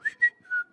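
A person whistles a short three-note tune imitating Mickey Mouse's cheerful Steamboat Willie whistle: two quick rising chirps, then a longer held falling note, close and clear with no talk.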